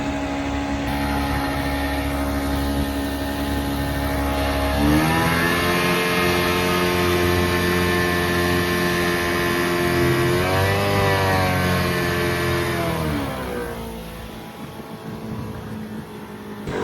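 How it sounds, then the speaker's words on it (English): A 1983 Johnson 140 hp outboard motor with a spun prop runs steadily, then revs sharply upward around five seconds, holds a high whine with a second surge, and drops back to a rougher idle near the end, loud and close with no talk. "I don't know if you heard that fast rev up"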